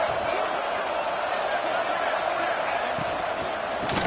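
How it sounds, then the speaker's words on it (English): Stadium crowd at a college football video game, Michigan at Illinois, roaring for the defense in the red zone: a dense, steady wall of crowd noise that holds without a break from start to finish. "This crowd is trying to inspire this defense to make a big red zone stop."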